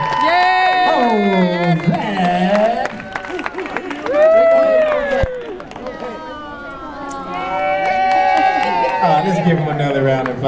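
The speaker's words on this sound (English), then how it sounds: "Let's give a big round of applause to the father of the bride" Wedding guests clap and cheer for the bride's father, a sustained crowd of applause and whoops that rises and falls, with voices and chatter mixed through it.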